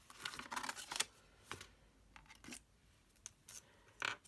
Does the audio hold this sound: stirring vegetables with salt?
no